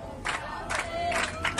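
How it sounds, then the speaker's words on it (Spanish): A crowd on a television program cheers and applauds for a birthday in several short bursts of clapping and shouts. It is moderately loud, with brief lulls between the swells. "aplauso por cumpleaños"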